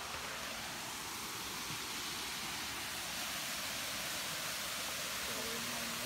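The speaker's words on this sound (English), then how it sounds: "there's this awesome little waterfall that we have right here." A small waterfall beside a hiking trail in the Dolly Sods Wilderness of West Virginia rushes in a steady, broad hiss of falling water, continuous and fairly faint.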